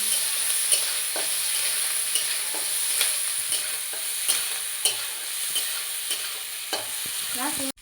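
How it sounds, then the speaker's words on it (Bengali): Chopped onions and green chilies fry in hot oil for a Bengali fish curry, a constant close sizzle broken by repeated scraping clicks of a spatula stirring the pan. "এটাকে নাড়াচাড়া করে লাল লাল করে ভেজে নেব।"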